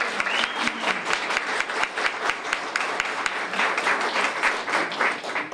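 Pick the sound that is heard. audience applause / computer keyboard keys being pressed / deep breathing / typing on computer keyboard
audience applause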